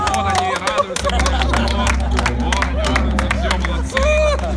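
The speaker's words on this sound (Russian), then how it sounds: "Болельщики, вот они радуются." Football fans celebrate in a stadium, a dense roaring crowd with scattered shouts and claps over a steady low rumble, loud and continuous after the final whistle.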